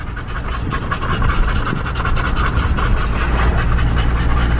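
Dogs pant hard and steadily after running away, a close, loud, continuous rasp of quick breaths with no voices.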